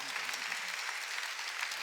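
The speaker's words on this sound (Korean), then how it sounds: "박수 치려면 세게 치고" A church congregation at a Korean Sunday worship service claps steadily and densely, a continuous wash of many hands applauding together with no voices standing out.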